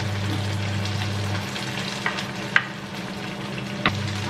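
Sliced onions frying for sisig in a pan, a steady low sizzle with a faint hum underneath and a few light clicks and stirring taps, heard alone with no talk.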